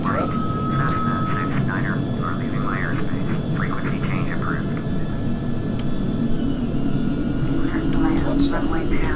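Airliner engines roar steadily in Flight Simulator X as the jet climbs away after takeoff from San Francisco, a constant loud rumble under intermittent cockpit voices.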